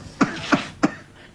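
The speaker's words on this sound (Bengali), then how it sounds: "দাদাজান, একটু আস্তে কাশতে পারবে?" An elderly man coughs three times in quick succession, short harsh bursts evenly spaced and close by, followed by quiet.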